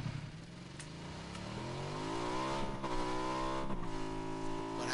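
A car engine in a video game accelerates steadily, its pitch climbing through two gear shifts, loud and close with no talk over it.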